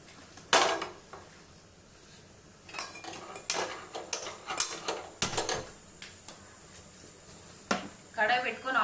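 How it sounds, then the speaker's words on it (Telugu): A kadai is set down on a stove amid a run of metallic clanks and knocks of pots and utensils, sharp and close, with brief pauses between the impacts. "ఇప్పుడు ఒక కడాయి పెట్టుకుందాం"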